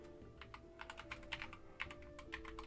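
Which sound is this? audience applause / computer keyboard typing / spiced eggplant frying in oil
computer keyboard typing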